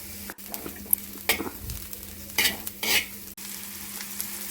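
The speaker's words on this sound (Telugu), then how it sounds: "సో లైట్గా కుక్ అయ్యే వరకు మీడియం ఫ్లేమ్ పైన ఫ్రై చేసుకోండి" Mushrooms and onions fry over a medium flame for a mushroom omelette, giving a soft, low sizzle broken by a few clattering stirs and scrapes of the spatula, close by and with no voices.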